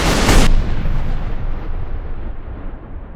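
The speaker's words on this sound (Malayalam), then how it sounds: "ബോട്ടിനെ ലക്ഷ്യമാക്കി വെടിയുണ്ടകൾ പാഞ്ഞു." A single loud gunshot bursts out at the start, fired at a boat, then a long rumbling echo trails off and fades over a few seconds.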